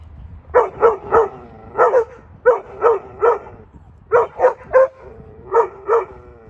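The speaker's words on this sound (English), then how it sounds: "dog's just started barking at a stray dog" A dog barks loudly and close by in quick bursts of two or three, with short pauses between the volleys.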